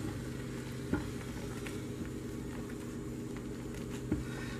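Hot process oatmeal, milk and honey soap being stirred down in a pot, a thick wet squishing and sizzling churn with two sharper scraping knocks, steady and close.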